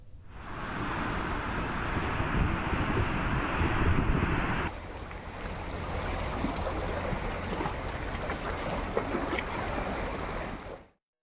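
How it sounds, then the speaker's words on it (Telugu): Godavari flood water pours through the 48 radial gates of the Dhavaleswaram Cotton Barrage in a continuous broad roar of rushing water that is loud and unbroken, then cuts off abruptly at the end, with no talk. "48 రేడియల్ గేట్ల ద్వారా 9 లక్షల క్యూసెక్కుల నీటిని దిగువకు అధికారులు విడుదల చేస్తున్నారు"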